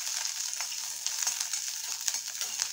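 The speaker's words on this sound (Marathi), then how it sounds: "तर लसूण भाजताना मी अर्धा चमचा तेल घेतलेला आहे" Garlic roasting in half a spoonful of oil, sizzling and frying steadily throughout with small crackles and pops, close and alone with no talk, while a flaxseed and curry leaf chutney is being made.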